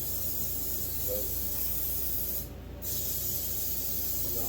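A garden hose sprays water to rinse a dirty air filter from an Echo 355T chainsaw, a steady close hiss lasting throughout with a brief dip near the end.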